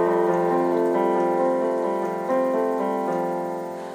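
Sustained piano chords with a bass line play a passage of a song, changing harmony every second or so at an even, moderate level before gently fading toward the end.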